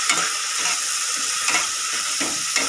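Kabuli chickpeas stirred in a hot pan, a loud continuous sizzle with rhythmic scraping strokes of a spatula repeating every half second or so, no voices.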